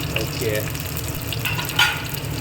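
Mustard seeds, dried red chilies and a little onion frying in hot oil, a steady close sizzle with faint crackles and a brief stir, no voices.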